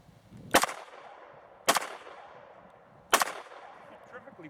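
Three sharp pistol shots fired outdoors at uneven intervals, each a loud crack followed by a short fading echo, with no voices.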